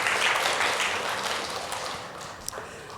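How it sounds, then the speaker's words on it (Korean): A church congregation applauds during a Sunday service, a dense, even wash of clapping from many hands that holds steady and slowly tapers over a few seconds. "우리 수고해 주신 분들과 수고할 분들을 위해서 박수로 부탁하겠습니다."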